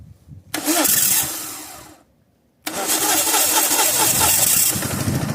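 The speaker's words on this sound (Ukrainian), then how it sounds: "давайте ще раз його попробуємо на газку завести" A mini tractor engine converted to run on LPG gas cranks, catches and starts, then runs loudly and steadily up close after a brief pause, with no talk over it.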